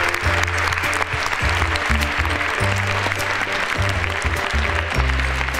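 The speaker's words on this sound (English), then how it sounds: "Can we have a clap, please, Liam?" Audience applause in a school assembly: steady, dense clapping throughout, mixed with loud low, sustained musical tones underneath.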